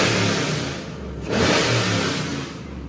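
A restored third-generation Pontiac Trans Am's V8 engine revving loudly up close, a steady roar that dips briefly and then surges again, with no talking.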